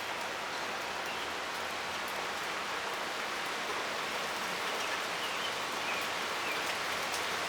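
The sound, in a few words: rain and wind gusts during thunderstorm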